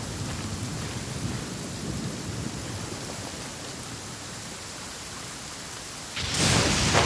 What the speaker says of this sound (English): With rain this heavy, not only are the stars clouded, so too is my scryglass hazy.